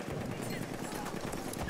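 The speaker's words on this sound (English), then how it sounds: "I hear a horse. That's our horse." Horse hooves clatter in a multiplayer shooter game, a quick continuous clip-clop running under the steady chatter of players talking over it.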